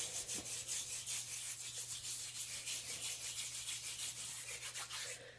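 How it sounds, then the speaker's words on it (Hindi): Homemade scrub is rubbed gently over both hands, making a soft, continuous gritty rubbing with a steady back-and-forth rhythm, close and quiet, alone without talking. "इसको अब हम हाथों पे लगाएंगे इस तरह से, और साथ साथ आहिस्ता आहिस्ता, जोर से नहीं करेंगे, इसको रब करते जाएंगे"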